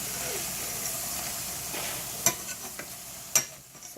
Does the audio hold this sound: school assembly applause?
no